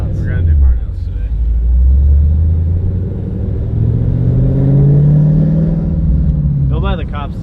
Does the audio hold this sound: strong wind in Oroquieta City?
no